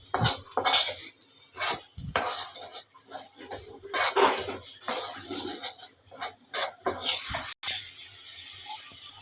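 Egg burji ingredients are mixed in a bowl with a spoon, giving close, uneven bursts of metallic clinking and scraping against the bowl, with short pauses between strokes.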